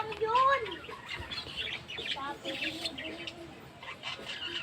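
Pigeons being fed make soft coos and chirps, with a sharper call near the start, over a steady outdoor background while people talk nearby.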